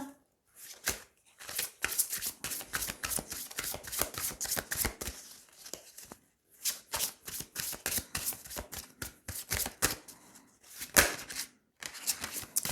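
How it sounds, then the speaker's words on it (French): Tarot cards being shuffled and dealt out, a near, dry run of rapid riffling bursts broken by short pauses, with light snaps and slaps as cards are laid down, no talking. "Je vais tirer 9 cartes."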